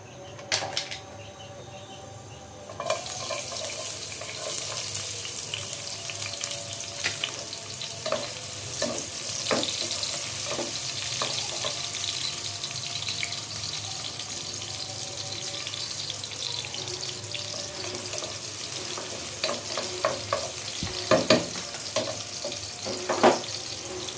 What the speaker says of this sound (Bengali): এই তো তেল দিয়ে দিচ্ছি আর দিয়ে দিচ্ছি পেঁয়াজ